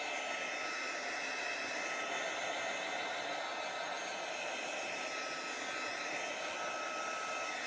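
A hair dryer or heat tool drying wet gesso on a mixed-media art journal page, a steady close whooshing roar of blown air that holds constant and loud throughout with no talk.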